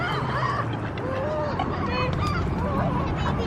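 Geese honk repeatedly close by in a lively flock, overlapping calls over a busy outdoor background alongside ducks and seagulls, with faint voices underneath.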